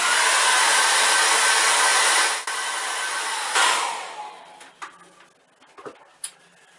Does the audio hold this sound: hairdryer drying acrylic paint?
yes